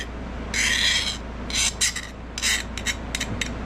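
A metal file rasps across a chef knife blade in several strokes, one long pass followed by a run of shorter quick scrapes, close up and loud with no talking.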